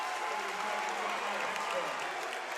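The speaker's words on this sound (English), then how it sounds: "And the Antwerp fans are cheering loud." Fans at a high school varsity basketball game between Hicksville and Antwerp cheer and clap loudly in a gym, a dense, steady roar of crowd noise through the whole moment.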